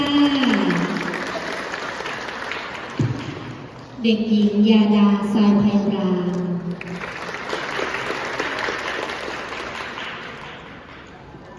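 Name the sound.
audience applause at a school farewell performance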